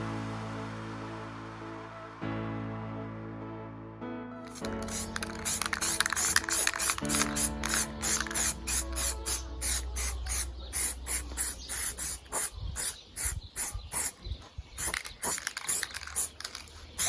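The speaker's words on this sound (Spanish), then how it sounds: "todas las piezas que tengo pensado pintar de rojo le voy a dar primero una mano" Spray primer applied to motor parts: after a fading tonal hum, a hissing aerosol spray pulses in rapid short bursts, close and steady, with rattling over a low rumble.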